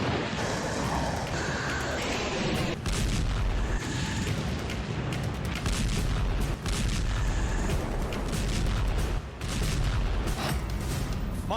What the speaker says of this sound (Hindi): देखिए यूक्रेन के वो 5 तोप जिन्होंने कई मोर्चों पर पुतिन की पलटन को पलटने पर मजबूर कर दिया।